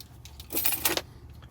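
A bunch of car key fobs for a 2024 Honda Accord Hybrid Touring jangles briefly, a short bright metallic rattle near the mic with a couple of sharper clinks, no talking.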